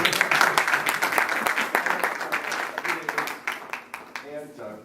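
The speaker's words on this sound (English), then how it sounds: "Let's give her a nice round of applause" Audience applause for a volunteer during a magician competition, a steady wash of clapping that gradually thins out, with talk running over it.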